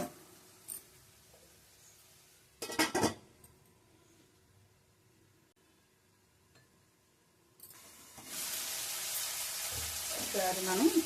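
Crab curry fries in a pan, with a couple of brief clatters early on and a steady loud sizzle building near the end, while a voice talks quietly in between.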